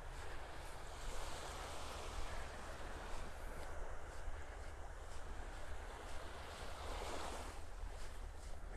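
Steady wind and surf at Vanderbilt Beach in North Naples, Florida, a continuous broadband roar of breaking waves mixed with gusty wind buffeting the microphone, with no voices.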